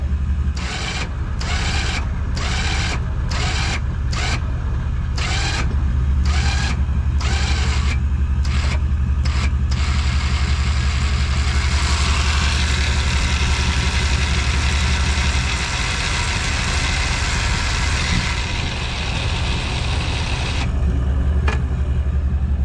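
A car engine idles steadily close by while a boat comes off a breakback trailer in a backyard, a low constant rumble with brief rhythmic rattling bursts early on.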